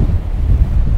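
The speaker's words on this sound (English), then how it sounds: "sorry about the wind" Strong coastal wind buffets the microphone at sea level on a rocky shore, a steady, loud low rumble with gusting swells and no other clear sounds.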